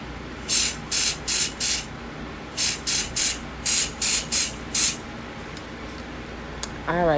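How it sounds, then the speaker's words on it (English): Resin spray on nails, hissing in eleven short aerosol bursts, grouped in fours with brief gaps; a faint chirpy whistle follows near the end. "if you happen to spray the nails with resin spray on accident before you start on your crystals"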